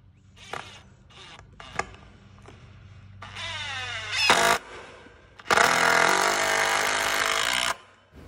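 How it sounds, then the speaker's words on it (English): A power tool whirs in several bursts while driving screws into angled supports on a hoop house frame, short stuttering pulses building to a long, loud sustained run near the mic before cutting off. "we're screwing more supports in at an angle"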